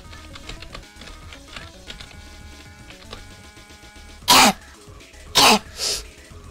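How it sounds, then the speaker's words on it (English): Loud, close coughs from a player over Friday Night Funkin game music: one harsh burst, then a second cough followed by a shorter third, each rising sharply above the steady chiptune backing. "This coughing is gonna annoy this gameplay."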